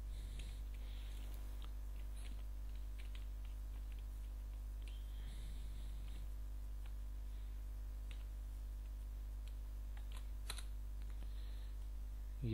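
Rapid keystrokes are tapped out on a computer keyboard while text is typed into a Word document, faint clicks in an irregular stream over a steady low hum, with no voices.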